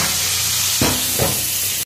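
Steady sizzling of cauliflower frying in hot oil, with two brief clattering stirs partway through.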